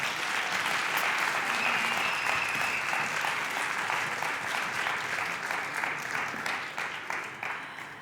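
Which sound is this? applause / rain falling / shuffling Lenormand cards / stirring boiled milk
applause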